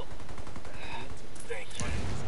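Gunfire in the tactical shooter Ghost War, rapid loud bursts of automatic fire throughout with a heavy thump near the end, dense and close.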